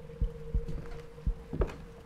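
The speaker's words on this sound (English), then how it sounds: "A little heartbeat in the background." A slow, steady heartbeat thumps through the background of the horror video game Minds Eyes, four or five soft low double beats over a faint constant hum, with no talking.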